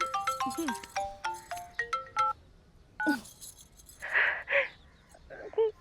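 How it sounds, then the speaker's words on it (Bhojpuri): A phone plays a bright electronic ringtone melody of quick repeated tones, followed by a few breathy sounds and a brief voice nearby. "मामी जी के नंबर से फोन होता, पक्का माता राम के फोन है। लो उठावा"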